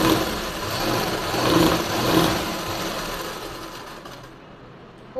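A sewing machine stitches a pleated kurti, a steady running mechanical whir that holds for several seconds, rises and falls slightly in speed, then stops near the end.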